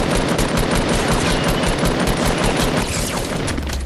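Loud, dense gunfire rattles nonstop in rapid automatic bursts, the shots blurring into a continuous close-range barrage with no pauses.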